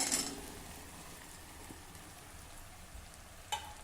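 Fresh tender okra dropped into a hot pan with a pinch of turmeric for kharda bhendi, giving a brief burst of sizzling that settles into a steady low frying hiss, with a small clatter near the end.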